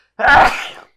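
A single loud, close sneeze, short and explosive, with nothing else around it.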